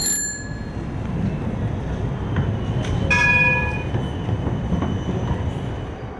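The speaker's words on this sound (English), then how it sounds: "It's time to catch the train to Amsterdam Belmere" A train at Amsterdam Bijlmer station, rolling rumble with metallic wheel squeals and brief bell-like rings, moderately close, no talk.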